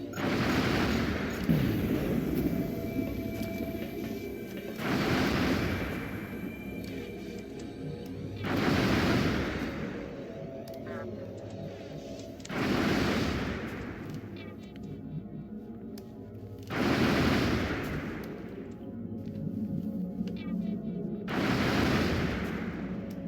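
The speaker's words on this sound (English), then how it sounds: "Throwing grenades." Grenade blasts in the XCOM Long War Rebalanced video game, five loud booming bursts spaced a few seconds apart, each with a rolling rumble that fades between them.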